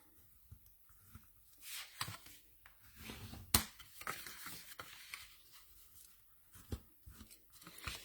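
Paper being creased into folds for a berlingot box: quiet, close, scattered crisp crackles and soft scrapes in irregular bursts, with one sharper snap partway through and no talking.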